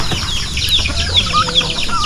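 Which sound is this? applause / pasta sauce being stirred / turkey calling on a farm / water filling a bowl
turkey calling on a farm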